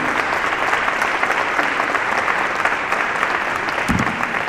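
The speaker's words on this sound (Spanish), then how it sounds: "Un aplauso os pido para él." Audience applause inside the Church of San Anton during a Christmas celebration: a steady, full wash of clapping from a large crowd that continues throughout, with a brief low thump near the end.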